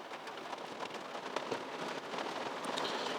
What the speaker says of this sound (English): Can you hear that rain? It's really starting to chuck it down now.